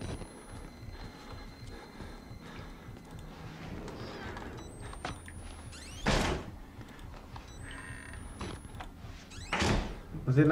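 A door slams shut in the horror video game Outlast, a heavy thud that stands out over dark game ambience, with a second similar bang a few seconds later.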